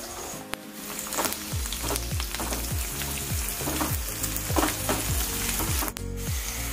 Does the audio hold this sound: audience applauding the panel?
no